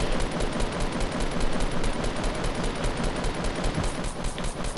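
Dense, continuous automatic gunfire fills a video game firefight, loud and unbroken for the whole stretch with overlapping rapid shots and no pauses.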